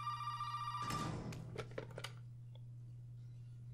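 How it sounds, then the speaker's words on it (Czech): An old-style telephone bell rings steadily in a Resident Evil VII house, a sustained bright tone for about a second before clicks and soft knocks follow over a constant low hum. "To je tady ten telefon?"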